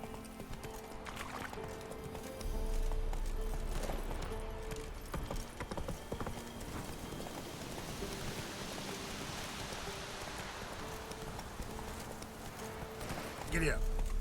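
Roach, the horse in The Witcher 3 video game, gallops with steady clip-clop hoofbeats over rain and background game ambience, with someone talking over it.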